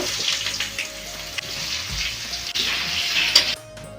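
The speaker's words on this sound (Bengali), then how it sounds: "এখন আমি হলুদ লবণ ছাড়াই বেগুনগুলো ভেজে নেব" Eggplant pieces frying in hot mustard oil in a pan give a steady, close hissing sizzle with a few soft bumps and shifts, and no talking.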